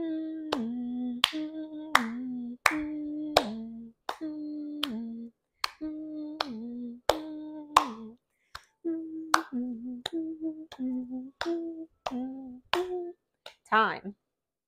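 Hands clap sharply about two dozen times in an uneven, loose rhythm while a person hums a steady low tone underneath, close and clear, ending with a brief rising vocal sound, during calm dog relaxation training.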